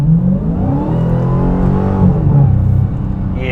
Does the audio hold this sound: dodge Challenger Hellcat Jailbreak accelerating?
yes